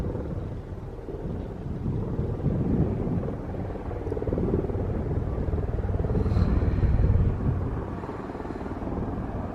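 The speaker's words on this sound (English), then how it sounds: "I can hear a helicopter." A steady low rumbling drone fills the whole stretch, a helicopter flying somewhere overhead in the Scottish Highlands between Glencoe and Kinlochewe, swelling slightly midway with no talking.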